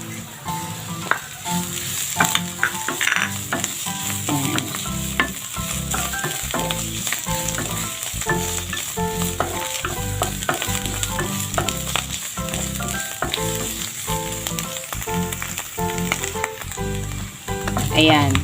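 Mushrooms and onions sauté in a hot pan with steady, loud sizzling and frying, broken by repeated scraping stir strokes throughout.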